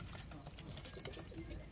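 Pigeons of Lalsira and KTM Teddy breeds coo softly in repeated short phrases over a steady low background murmur, several calls spread across the moment.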